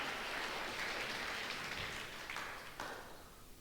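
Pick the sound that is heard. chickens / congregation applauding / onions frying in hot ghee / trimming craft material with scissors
congregation applauding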